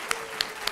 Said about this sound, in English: Please give a round of applause to all of the 3-minute thesis presenters.